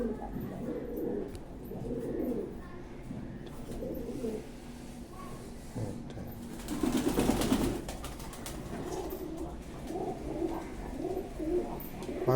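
Pigeons for sale coo softly and repeatedly in a low, throaty warble close by, with a brief flutter of restless birds in the middle.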